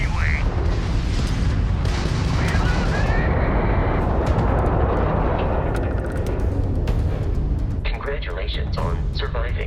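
Starship ballistic cannons hammer away with booming explosions during a space battle in Starfield, a dense, loud, continuous barrage with a voice speaking over the roar.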